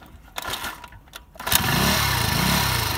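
An IRBIS Z50R 50cc scooter with a broken ignition lock cranks briefly, then catches and settles into a steady, loud buzzing idle close by, with no talk over it.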